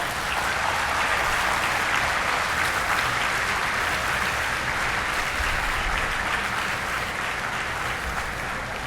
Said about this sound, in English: So can we have one big round of applause?